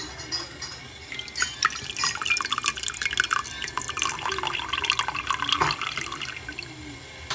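Boiling-hot water poured and swirled inside a VEVOR pot to rinse it out indoors, a steady splashing, trickling stream with dripping accents, close and fairly loud with no talk over it.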